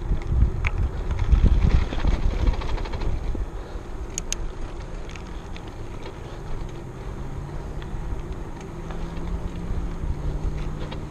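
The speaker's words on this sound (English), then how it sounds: "feels like I'm going back into the wind" Steady wind noise buffets the microphone during a bicycle ride on a Surly Ogre heading back into Eastwood Park, strongest in the first couple of seconds, then a continuous low rumble with faint traffic beneath.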